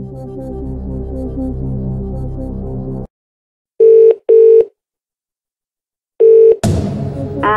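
Telephone rings in the Who Wants To Be A Millionaire 2nd Edition video game during a phone-a-friend call: two short loud tonal bursts, a pause, then a third burst, set between stretches of game music.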